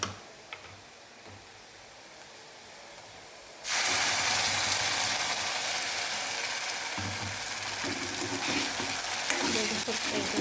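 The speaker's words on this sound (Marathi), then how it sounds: "आता आपण ह्यात मसाला बारीक केलेला टाकायचा सगळं." Ground masala hits a pan with okra, bursting into a loud, steady sizzle that continues with occasional stirring scrapes after a quiet start.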